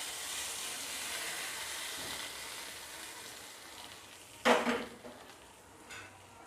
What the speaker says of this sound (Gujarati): થોડી આપણે હિંગ અંદર ઉમેરીશું અને લીમડાના પાન, અને આ જ ચટણીની અંદર આપણે એનો વઘાર રેડીશું.